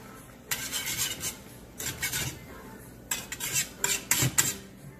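Eggs are beaten in a bowl for shrimp fried rice, with bursts of brisk utensil clatter against the bowl, close and fairly loud, in two main rounds with short pauses.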